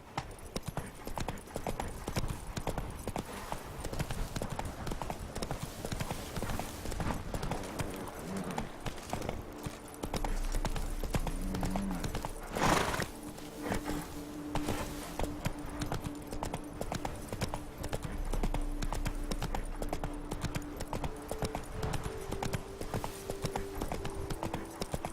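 Roach the horse trotting in The Witcher 3, steady clip-clop of hooves running through the whole stretch with a brief whinny midway and faint background voices.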